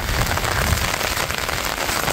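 Rain pours over a flooded village, filling puddles and hollows with water. A dense, even patter of drops strikes the surfaces close by, a continuous wash of noise with no voices.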